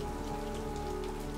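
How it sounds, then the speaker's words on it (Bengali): Heavy rain pours down in Bangkok, a dense, even roar of drops striking surfaces that holds steady throughout without a break. "তারপরেই শুরু হলো একেবারে জমজম বৃষ্টি।"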